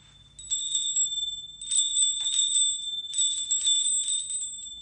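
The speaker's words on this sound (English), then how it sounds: "They are camel bells from the Holy Land." Small metal camel bells from the Holy Land jingle and ring in several shaken bursts, bright and close, with quiet pauses between.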